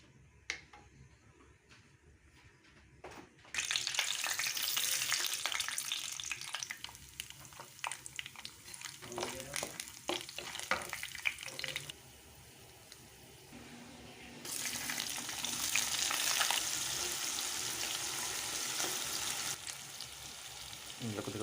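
Spices temper in hot oil for poha upma, a dense hissing sizzle that bursts in loudly after a quiet start, crackles with scattered pops, eases briefly midway, then surges again and keeps sputtering steadily close by.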